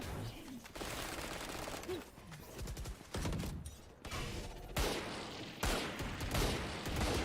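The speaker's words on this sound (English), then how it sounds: "Lots of shots going off." Dense bursts of gunfire from a Valorant match on the Ascent map, rapid overlapping shots and sharp cracks firing in clusters through a busy mix, with a voice speaking faintly underneath.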